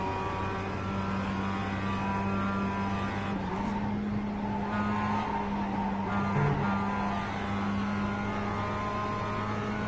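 Race cars in the iRacing sim at Watkins Glen drone in a steady, loud engine note through a pack, with brief tire squeal and passing surges, and no talk.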